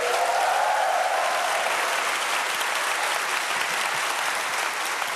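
Dense, sustained applause from a studio audience at a Korean comedy show, loud and even throughout with no pauses.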